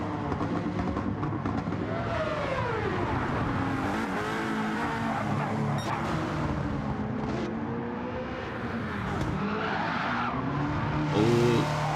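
A race car at Tsukuba circuit loses its rear under early power on a wide line, engine roaring loud and continuous with tire squeal and skidding rising over steady racing noise, another car's engine noise passing near the end.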